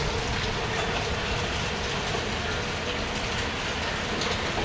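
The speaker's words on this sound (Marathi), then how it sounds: "हा बघा इथे आला आहे पाऊस जोरदार" Heavy rain pours steadily and loudly in a dense, unbroken roar of drops with no pauses or voices.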